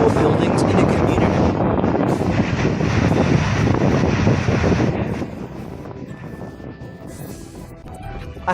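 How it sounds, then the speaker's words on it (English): A loud firefighting helicopter roars close by with a heavy engine drone and wind buffeting, then fades away, leaving a quieter background hum. "A helicopter fights a fire."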